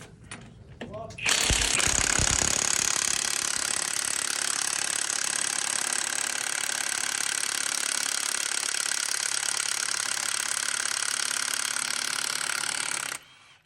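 A Profitek 2100 Nm impact wrench hammers continuously on a nut that was tightened at a tire shop, a loud, steady rattling burst lasting over ten seconds, close up and running alone after a brief start.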